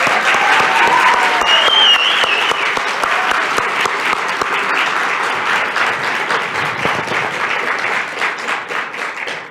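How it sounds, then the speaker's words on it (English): An audience at a Chicago MLK Jr. oratory competition breaks into loud, sustained applause welcoming the first-place winner, dense clapping that stays strong for several seconds before slowly thinning. "So please join me with a special round of applause to welcome the first place winner"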